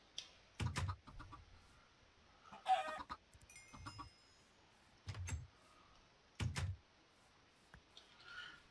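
Chickens in the video game Minecraft give a handful of separate short clucks and squawks spread unevenly over several seconds, against a quiet background with scattered game sounds.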